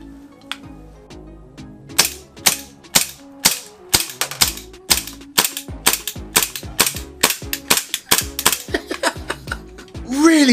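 A WE-TECH M92F airsoft pistol fires BBs on full auto in sharp, rapid bursts of snapping shots, starting with a few isolated clicks before a long rattling string, loud and close with no talking.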